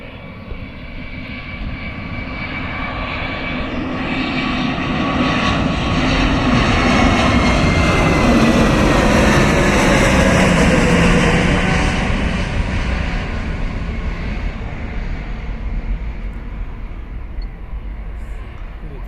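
A passenger airplane at Karippur Airport roars through its take-off run, the engine noise swelling to a loud peak around the middle and then slowly fading as it pulls away, with a steady broadband rumble throughout.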